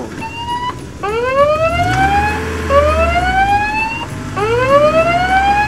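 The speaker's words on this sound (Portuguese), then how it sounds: "Caminhão de bombeiros, vamos lá apagar o incêndio!" A cartoon fire truck siren wails loud and close in repeated rising sweeps, each climbing then restarting, over a low vehicle rumble, with no voices.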